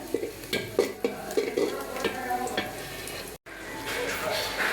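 Onions fry in a pan before fish heads go in, with a soft sizzle under repeated clattering stir strokes at a close distance. A short break comes near the end, then a steadier sizzle.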